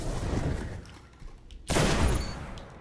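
A single sharp sniper rifle shot from a quick-scope in a video game, one loud crack near the end following quieter game ambience.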